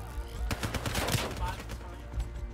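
Rapid gunfire from the Call of Duty Black Ops 3 video game, a dense run of sharp bursts and repeated shots with low thuds, fairly loud and close, continuing through the whole stretch with faint voices in the background.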